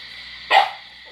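A dog gives a single short bark close by against a faint steady hum, then quiet.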